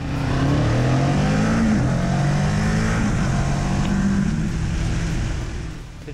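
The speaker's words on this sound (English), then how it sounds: "The intake has an amusing roar, yet the exhaust note isn't so daring as to attract unwanted attention." A 2017 Kawasaki Z650 motorcycle engine roars loudly and steadily, its throaty intake and exhaust note holding up close before easing off slightly at the end.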